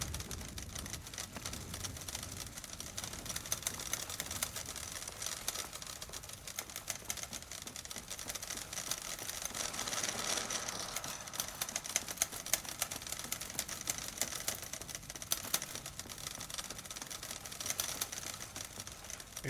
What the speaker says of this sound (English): you're in a room full of typewriters